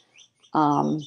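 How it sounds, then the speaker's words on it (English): A cat's electronic toy chirps, with a couple of faint high tweets followed by a louder, closer bird-like chirp near the end. "sorry about the chirping, that's my cat's toy."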